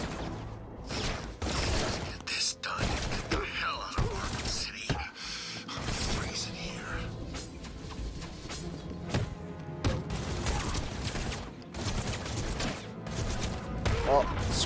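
Dense gunfire from the Batman Arkham City video game, Harley's Revenge, fills the scene: loud, continuous bursts of shots and mechanical clatter with brief gaps, over game effects and occasional voices.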